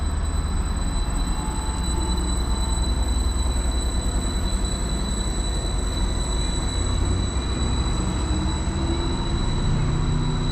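A Class 755 passenger train pulls out of a station bound from Peterborough toward Ipswich in Cambridgeshire, a steady loud rumble of engine and wheels with faint high whine, continuous and close throughout.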